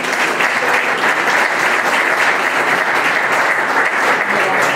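An audience gives steady, dense applause at a local awards ceremony in Valsequillo, many hands clapping continuously and loudly from start to end without a break.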